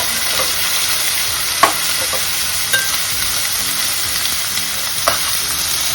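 Garlic cloves and onions fry in a pan with a loud, continuous close sizzle, broken by a few faint utensil taps as they are stirred.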